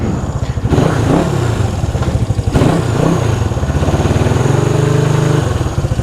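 A 1974 Honda CB360 motorcycle with a newly freed front brake and reworked carburetors runs loud and close, its engine pulsing steadily with revs that rise and fall as it rides off, no talking over it.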